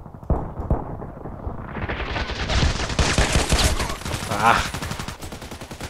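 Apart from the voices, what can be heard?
TT pistol gunshots in video game Contract Wars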